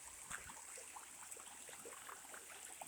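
Rocky Creek flows over small rapids, a quiet continuous babble and trickle of water with scattered faint splashes, heard from nearby in an outdoor setting.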